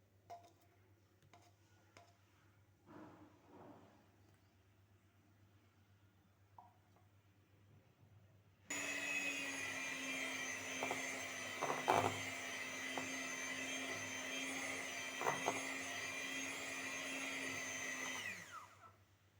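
An electric beater whirs through condensed milk for homemade chocolate ice cream, switching on suddenly after quiet bowl clatter and running as a loud, steady high whine with occasional knocks before cutting off near the end.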